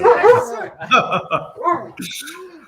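A voice imitates a dog's bark with a short playful woof, mixed with chuckling and laughter. It is close and loud, with talk around it.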